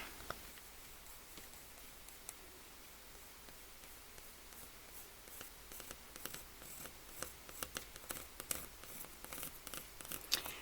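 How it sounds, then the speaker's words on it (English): A pencil sketches a small mustache onto a painted Uncle Sam board, giving faint, soft scratchy strokes that grow busier and more frequent toward the end, with no talking over them. "So now I'm going to work on the little mustache, and I'm going to pencil it in."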